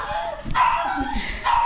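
A dog barks a couple of times, sharp and fairly close, over a steady background of voices and room noise.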